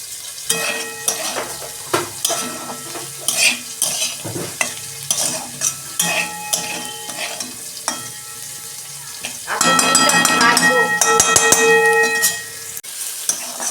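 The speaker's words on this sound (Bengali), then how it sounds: "দেখুন বন্ধুরা, লাউয়ের খোসা ভাজা আমার হয়ে গেছে।" Bottle gourd peels sizzle in a pan while a spatula stirs them in repeated scraping, clattering strokes, close and fairly loud, swelling into a denser, louder frying hiss near the end.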